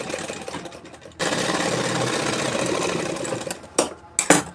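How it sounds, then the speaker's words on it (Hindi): A sewing machine runs steadily for about three seconds, stitching a salwar hem folded over buckram, then stops, followed by a couple of short clacking handling sounds near the end. "तो हमने ये सिलाई लगा दिया।"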